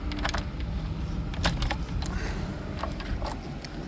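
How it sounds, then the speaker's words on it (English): Keys jangle and clink in handling, a close metallic rattle in several quick bursts over steady background noise outdoors. "had to get keys from the customer"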